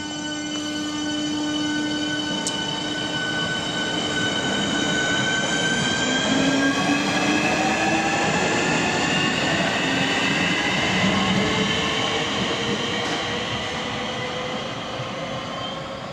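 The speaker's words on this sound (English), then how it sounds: "This is a fast train that's going to go through the station." A fast train roars through Shortlands railway station at close range, a loud sustained rush with metallic squealing tones from the wheels that rise and fall as it passes.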